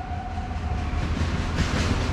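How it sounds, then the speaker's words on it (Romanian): A train rolling past on a railway near a river gorge, a steady loud rumble with rising clatter toward the end, no talking. "Uite, trece trenul."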